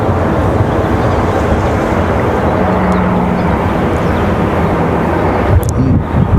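A Southwest airliner departs RDU airport at golden hour, its engines a steady, loud, broadband roar that holds for the whole stretch with no voices.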